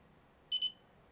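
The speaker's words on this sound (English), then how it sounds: "that double beep happened just because I was moving the device under test" An electronic test device under test gives a quick double beep, two short high-pitched tones back to back, clear over a quiet background hiss.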